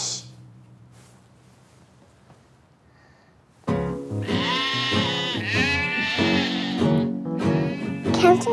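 Cartoon sheep bleat in a loud, wavering chorus of overlapping cries after a quiet stretch, with voices mixed in among the bleats.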